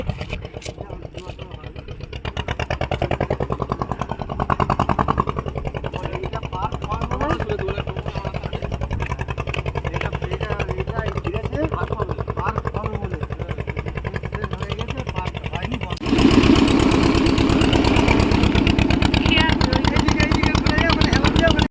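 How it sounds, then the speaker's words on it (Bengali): A motorboat engine runs steadily as the boat pulls away from a riverbank, with a louder, harsher engine surge toward the end; people talk over the constant drone. "তো পাড় থেকে এখন নৌকা ছেড়ে দিয়েছে, তো এখন যাচ্ছে"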